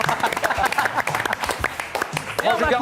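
Audience clapping and cheering at a 20th anniversary celebration for the 1997 European champion C.A. Brive rugby team, a dense continuous applause filling the room with voices mixed in.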